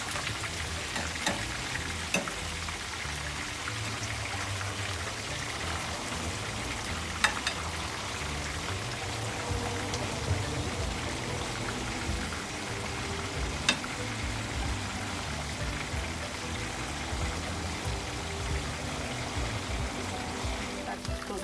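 Salted fish, makayabu, frying in a pan crackles and sizzles steadily up close, with sharp spits now and then and a low background rumble.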